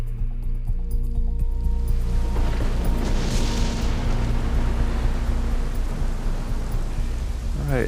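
Rain falls at Mother Base in Metal Gear Solid V, a loud, continuous hiss over a deep low rumble, steady from start to finish beneath someone talking.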